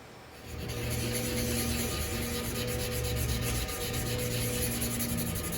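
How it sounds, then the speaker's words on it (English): Continuous close-up wet sanding of a painted 3D print, a steady scrubbing rasp with a low hum running underneath. "shows kind of the process of the wet sanding"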